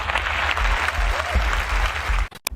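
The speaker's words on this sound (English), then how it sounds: "Let's give them a round of applause." Audience applause fills a hall, a dense steady clapping that carries on evenly before cutting off abruptly near the end.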